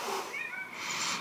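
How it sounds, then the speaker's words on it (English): A cat waiting for food lets out a drawn-out meow, faint and somewhat distant, rising in pitch over a steady background hiss with no talking. "I don't know if you can hear that meow in the background."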